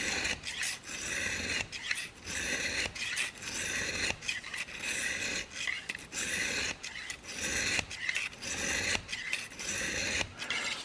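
A Rage Hypodermic knife blade is sharpened in repeated rasping strokes, a steady back-and-forth scraping rhythm of roughly one pass per second, close and loud with no talking.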